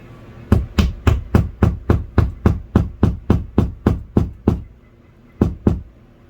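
Sharp hammer blows drive a wall anchor into a wall, about fifteen evenly spaced knocks in a steady run, a short pause, then two more strikes, loud and close with no talking.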